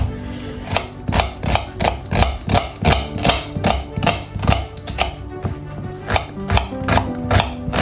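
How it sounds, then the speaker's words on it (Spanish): A knife chops an onion on a board in a steady, fast rhythm of sharp taps, a few per second, close and loud, continuing without a break for about eight seconds. "como ven yo tengo acá una cebolla, la vamos a picar y la vamos a sofreír con este pimiento"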